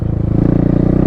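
A Thumpstar 250 air-cooled dirt bike engine revs up close, its rapid, even thumping pulse loud and steady throughout the short burst.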